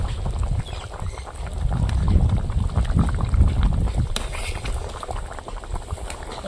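Mochon fish curry with taro bubbling in a pot, a steady close simmer with dense low gurgling and soft pops running throughout.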